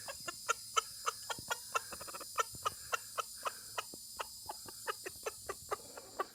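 Chickens on a homestead cluck outdoors while being fed scratch, a close, steady series of short clucks and chirps repeating every fraction of a second over faint background hum.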